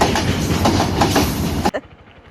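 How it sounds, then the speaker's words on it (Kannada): An old vehicle's engine rumbles loudly and close with a rhythmic chugging like a train engine, then cuts off abruptly near the end, leaving a few faint knocks. "ಇದೇನಮ್ಮ ಈ ಗಾಡಿ ಟ್ರೈನ್ ಇಂಜಿನ್ ಸೌಂಡ್ ಬರ್ತೈತೆ"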